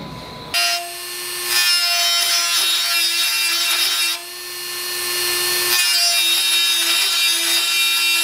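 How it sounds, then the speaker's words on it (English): A computer case top panel being cut to make a hole for cabling, with a steady, loud, close grinding saw sound running continuously, briefly dipping twice before resuming. "for now I'm going to get the hole cut out for the cabling and the fill port stuff"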